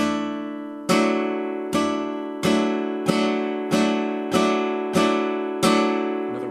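A guitar chord strummed seven times at a steady, unhurried pace, each bright ringing strike decaying before the next, played alone with no voices.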